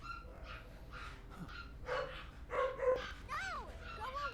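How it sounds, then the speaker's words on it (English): Pet dogs bark and yip excitedly indoors in a Final Fantasy VII Remake cutscene, several overlapping high-pitched barks and whimpers in quick succession, moderately loud over faint background. "My puppies are going ham."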